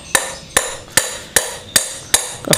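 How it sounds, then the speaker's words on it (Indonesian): Six sharp metallic impacts land at a steady rhythm as a motorbike handlebar (keprok stang) is used as a striking tool on a part of a matic scooter's gearbox, close and loud with no talk. "Nah, ini saya pakai metodenya pakai keprok ya, keproknya"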